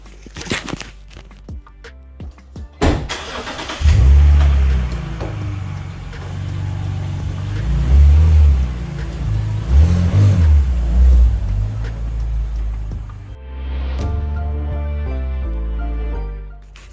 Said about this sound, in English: it's time to pull the BMW out